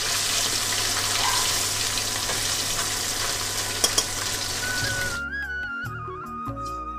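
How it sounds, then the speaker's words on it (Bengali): Eel fish fry in hot oil in a second batch, a dense steady sizzle with faint crackles lasting about five seconds before cutting abruptly to a short musical passage. "সেম প্রসেসে আমি সেকেন্ড ব্যাচের মাছগুলো ভেজে নিয়ে তারপরে আমি ফিরে আসছি"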